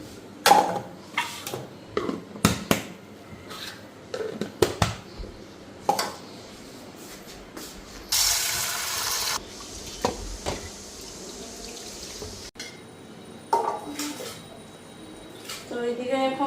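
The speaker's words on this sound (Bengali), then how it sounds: "তো ডালটাও ধুয়ে নিই।" Mung and khesari lentils being washed by hand: water splashes and drips, with sharp clacks of grains and a bowl, interrupted by a brief run of tap water, while someone talks intermittently.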